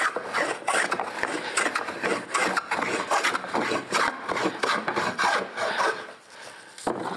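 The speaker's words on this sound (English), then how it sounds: "right now it's just cutting high spots, so I'm not getting a huge amount of cut" A hand tool shaving a wooden chair part, cutting only the high spots: quick rasping scrapes in a steady back-and-forth rhythm, close and fairly quiet, with a brief pause near the end.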